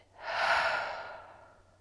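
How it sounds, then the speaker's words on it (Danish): One slow, close breath swells and fades over about a second and a half, a soft airy sigh like a long release of air in a quiet setting. "Indånding gennem næsen, og giv slip."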